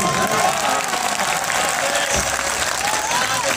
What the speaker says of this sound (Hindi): मैं चाहूंगा कि मेरे ग्रुप के लिए जरा आप पुरजोर तालियां बजा दें